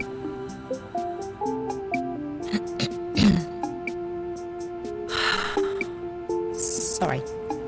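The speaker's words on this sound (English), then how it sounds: "Just clearing my throat" A character in the game Dreamfall: The Longest Journey clears their throat in one short, rough burst midway through, over soft melodic game music with a second breathy rasp shortly after.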